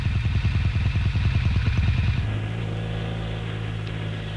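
A Yamaha TX 750 motorcycle engine runs with a rapid, pulsing exhaust beat that abruptly gives way to a smoother, steadier drone at moderate loudness, heard alone without any talk.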